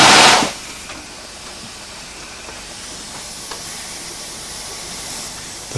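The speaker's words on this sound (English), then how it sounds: "The fire heats the water and makes steam." A steam locomotive's boiler vents with a loud burst of hissing steam in the first half second, then a steady quieter hiss and rumble continues with faint clicks, as if in a station yard before a run.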